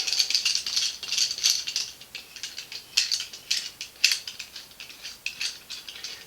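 An old, rusty clamp screw is wound along its threads, giving close, quiet metallic rattling and ratcheting clicks in uneven bursts, with no voices.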